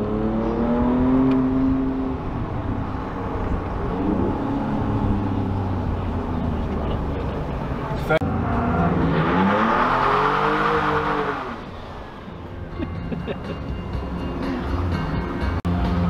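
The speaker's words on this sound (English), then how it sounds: "So we're just going out for another run up the Goodwood Hill in the Raptor again" A Ford Ranger Raptor V6 pickup truck runs up the Goodwood Hill at the Goodwood Festival of Speed. Its engine drones steadily and loudly, rising and falling as it shifts gears, and eases off briefly near the end.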